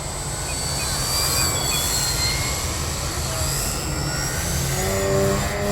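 An Addiction X radio-controlled model airplane flies and climbs with a continuous high-pitched motor whine, fairly loud and steady, its pitch sliding slightly as it moves.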